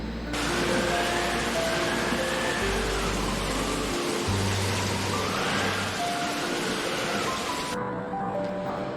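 Steady rain falls on a monsoon day, a dense, even hiss that carries on unbroken throughout, with soft low tones drifting underneath and no voices.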